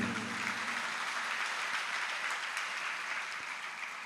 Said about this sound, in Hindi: उनका स्मरण करते ही तालियां बजती हैं